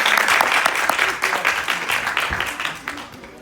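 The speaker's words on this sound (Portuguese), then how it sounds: "Peço uma salva de palmas a todos e receber Marcos Simões." Lecture-hall applause at a literary festival: many hands clap in a dense, lively burst that thins and fades toward the end.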